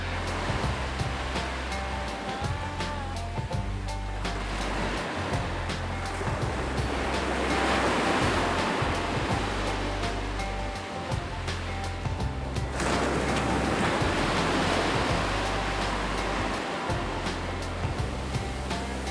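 Surf rolls onto the beach beside a coast road north of Cairns, a steady, full wash of breaking waves with wind noise, swelling louder around the middle and end, with no voices.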